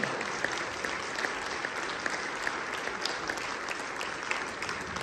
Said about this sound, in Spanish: Un aplauso para usted, para usted y para usted.